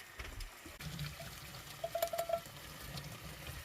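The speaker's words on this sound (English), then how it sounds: "Once the pasta's cooked, drain it." Cooked pasta drained in a kitchen, water pouring and trickling at moderate level for a few seconds, with a brief cluster of light clinks in the middle.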